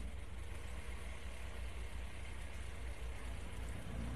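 A 2012 Toyota van's diesel engine idles steadily with a constant low rumble, close and unbroken, no voices over it.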